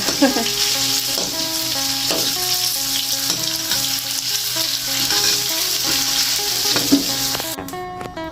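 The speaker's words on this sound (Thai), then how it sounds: "ผัดกระเทียมมีหอมนะจ้ะเนาะ" Garlic is stir-fried in a pan with a steady loud sizzle, while a spatula scrapes and clinks against the metal and music plays underneath.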